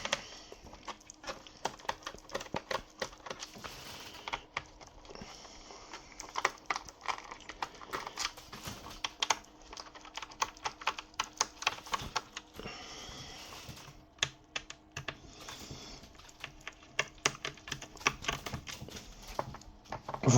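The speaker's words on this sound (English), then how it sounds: "I will unscrew everything first." Screws are removed from the bottom panel of an MSI Cyborg laptop, giving a long stretch of small, dense, irregular clicks and ticks, close and fairly quiet, with no talking.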